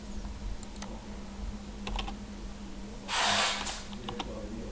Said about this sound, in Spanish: Vamos a copiar y ingresamos el código de verificación.